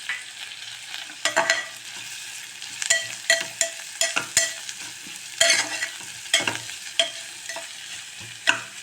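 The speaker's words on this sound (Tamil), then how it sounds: "ஒரு பச்சை வாசனை போகிற அளவுக்கு 2 நிமிஷம் வதக்கி கொடுத்துட்டு" Garlic, ginger, green chili and onion sautéing in a pan for broccoli biryani, a soft continuous sizzle broken by repeated clattering stirs and scrapes of the spoon.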